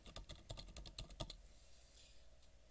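A name being entered on a computer keyboard: a quick run of crisp, close keystrokes for about a second and a half, then quiet room tone.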